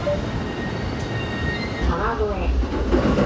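A Musashino Line train at Niiza station in Saitama, rumbling steadily on the tracks with a brief wheel squeal partway through, while a voice talks nearby.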